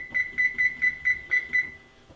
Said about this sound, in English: I'm going to set a timer now for